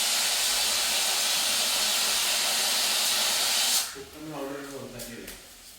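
A pressure cooker vents steam in a loud, steady hiss for nearly four seconds, then cuts off abruptly and leaves a quieter stretch of faint kitchen noise.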